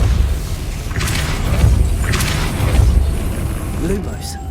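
Spell impacts in Hogwarts Legacy, a dense rumbling boom texture with a few sharper bursts over continuous loud game sound.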